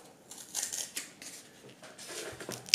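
Scissors snipping through a cardboard piece for a papercraft animal, a few quiet crisp cuts spaced across the moment, close and alone with no talk.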